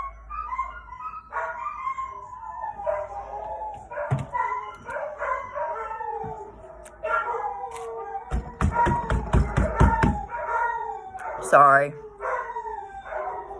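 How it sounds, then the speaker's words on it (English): Pet dogs break into a run of yappy barking and howling, with rapid bursts close by and a brief whine, while someone talks over and between them. "There goes my lovely little heathens barking."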